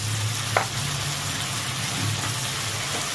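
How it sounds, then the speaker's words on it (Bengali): Hilsa fish head frying in oil with salt, turmeric, coriander and cumin powder, a steady hissing sizzle with a sharp tap early on and no talking. "সব দিয়ে ভালো করে একটু কষিয়ে নেব"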